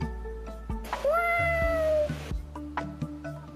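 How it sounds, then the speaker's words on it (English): A cat meows through headphones, one long drawn-out meow in the middle with shorter, fainter meows before and after, close and clear against a quiet background. "You got a kitty in your headphones."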